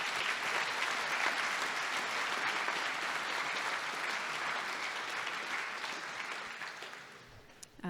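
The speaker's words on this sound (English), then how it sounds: "deserve a huge round of applause just for showing up for your town tonight" Audience at a municipal election candidates' forum in a town hall setting breaks into steady, sustained applause, dense and even, fading slightly toward the end.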